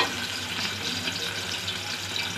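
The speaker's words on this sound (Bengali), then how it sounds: "আমি এখন এতে দিয়ে দিচ্ছি জল" Water poured from a vessel into a pot of partly cooked mutton curry, a steady broadband splashing pour held at an even level throughout, close by, with no talk.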